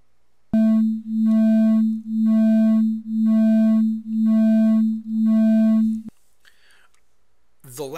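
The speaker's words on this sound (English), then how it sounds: "Beats are the alternating loudness and softness of a sound wave due to the interference that's happening." Two close pure tones sound together, producing a steady pulsing beat pattern of six regular swells of loudness over about five seconds, loud and alone, then cut off abruptly with faint noise afterward.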